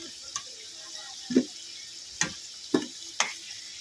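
Raw jackfruit pieces being fried in oil, a faint bubbling hiss broken by four or five sharp clacks and scrapes of a spoon against the pan, no speech.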